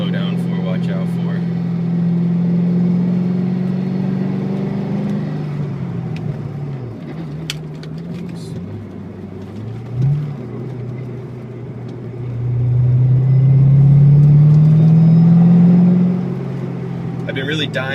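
Chevrolet Corvette Z06 sports car engine droning steadily while driving on a road, rising to a louder accelerating roar near the end, with someone talking over it throughout.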